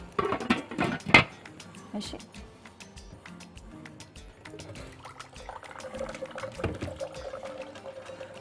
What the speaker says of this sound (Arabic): هحط له مية مغلية